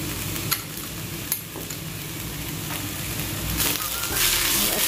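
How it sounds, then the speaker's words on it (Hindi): Ginger garlic paste frying with onions in a pan for restaurant-style Nawabi paneer, giving a steady close sizzle with a few sharp clicks of a spoon stirring against the pan. "अब यहाँ पे मैं शामिल करूँगी जिंजर गार्लिक पेस्ट"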